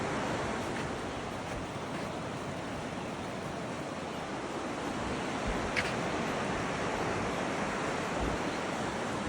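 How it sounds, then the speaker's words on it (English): Two fast rivers meet beneath a bridge, their rushing water making a steady, loud broadband roar that never lets up, with wind buffeting the microphone at times. "Couple of crazy rivers merging right here."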